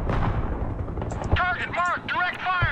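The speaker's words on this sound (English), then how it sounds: "There's artillery." Artillery fire in the video game Broken Arrow: deep booming blasts and rumbling detonations fill the mix, with a whistling, warbling tone from about the middle onward, loud and continuous.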